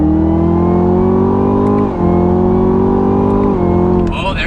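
A 2017 Chevrolet Camaro ZL1 engine roars loudly and steadily from inside the car, revving hard through tightly spaced short gears with brief dips at each quick shift, while people talk over it.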